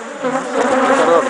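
Bees swarm around a beekeeper working hives on a farm, a loud, dense, continuous buzzing close to the microphone with no voices.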